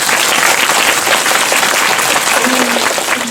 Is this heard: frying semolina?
no